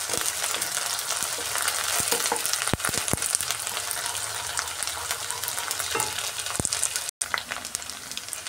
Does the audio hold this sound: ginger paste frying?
yes